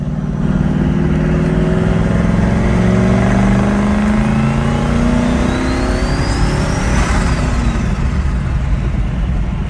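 Turbocharged 5.0 Ford Ranger pickup driving and accelerating, heard from inside the cab: a loud, steady engine roar that climbs in pitch as it revs through the gears, with a rising whine and no talking.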